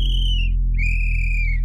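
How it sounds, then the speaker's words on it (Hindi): A watchman's whistle blown twice in an animated Hindi horror story, two sustained shrill tones separated by a short gap, loud and close over a low background hum. "फिर से जैसे ही चौकीदार सीटी बजाता है"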